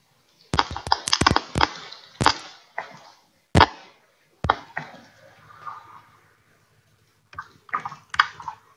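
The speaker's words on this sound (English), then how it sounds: "I hear you typing." Computer keyboard typing in bursts of sharp, close clicks, with a few quieter keystrokes and pauses between clusters; no talking.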